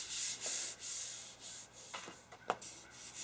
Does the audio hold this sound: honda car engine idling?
no